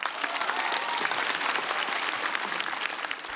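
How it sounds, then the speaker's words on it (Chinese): A studio audience applauds a stand-up comedian at a televised comedy competition. The clapping is dense, steady and fairly loud, with no voices over it. "掌声再给英宁"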